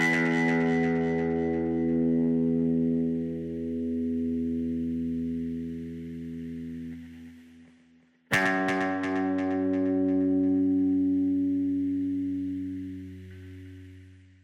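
Sustained electric guitar chords through amps and cabs, no modulation, ring out with long delay and reverb tails, fading, then a fresh strum swells up and slowly decays.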